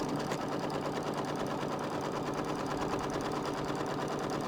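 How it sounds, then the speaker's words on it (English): A home sewing machine stitches fabric in one continuous, steady run, its motor hum and rapid needle chatter holding an even level throughout, close and fairly quiet. "You kind of get to know the sound of your machine."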